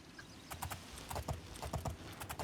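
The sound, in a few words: horse hooves clip-clopping in the video game Oblivion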